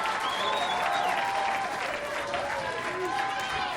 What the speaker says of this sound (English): This place is packed, Larry, for this match, and loud crowd